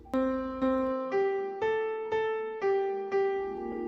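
A Markov-chain-generated melody on piano, with evenly spaced single notes about half a second apart, each sustaining and fading under the next strike, heard clearly with no voices.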